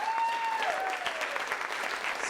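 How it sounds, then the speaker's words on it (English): An audience applauds panelists at a Seattle event, a dense, steady burst of clapping from a crowd, moderately loud and continuous, with a brief tonal voice sliding through at the start. "And let's have a big round of applause for our panelists."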